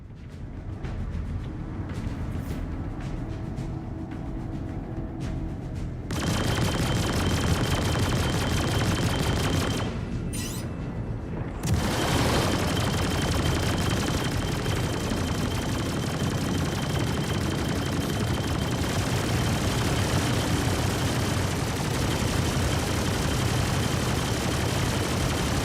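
Continuous heavy automatic fire in the space game Star Citizen, set in the Aaron Halo asteroid belt, loud and sustained with a brief break midway before the dense barrage resumes.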